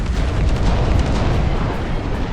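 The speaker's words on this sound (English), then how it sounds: "Deploy the heavy artillery here." Heavy artillery fires in the RTS game Dust Front, a dense, loud, continuous barrage of deep booms and bursts rolling together with no pauses.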